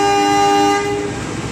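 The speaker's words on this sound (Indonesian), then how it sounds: "Kembali diberangkatkan dari jalur 4 kereta api Jakatingkir menuju tujuan akhir stasiun Solo Balapan." Jaka Tingkir passenger train departing track 4 with a loud, sustained horn blast that fades after about a second, leaving a lower rolling rumble.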